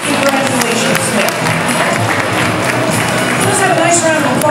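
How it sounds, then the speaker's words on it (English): Steady, full applause and crowd noise fill the hall at a dog grooming competition, the Groom Expo in Hershey, Pennsylvania. The clapping stays loud and even throughout. "Let's have a nice round of applause for all of our competitors here"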